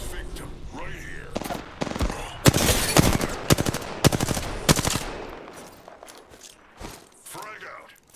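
Gunfire in Apex Legends: bursts of sharp shots and rapid automatic fire at close range, clustered in the middle, with footsteps and spoken voice lines around them.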